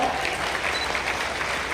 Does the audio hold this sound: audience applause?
yes